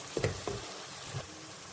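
Sliced onions and moong gram are stirred in a pan with turmeric, a few soft scraping knocks over a low steady sizzle.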